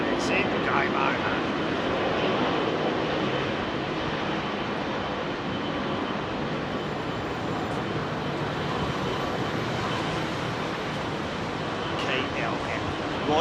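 A jet airliner takes off from runway 27R at London Heathrow, its engines a loud, sustained roar that stays broad and steady throughout, with occasional talk underneath.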